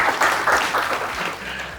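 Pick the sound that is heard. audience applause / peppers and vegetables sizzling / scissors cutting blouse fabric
audience applause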